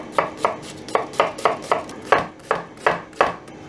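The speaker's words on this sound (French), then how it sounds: "Pendant que notre morue cuit, on va éplucher un oignon. On le cisèle finement." A knife finely chops a peeled onion on a board for a salt cod brandade, about a dozen crisp, close taps in a fairly steady rhythm with short pauses, no voices.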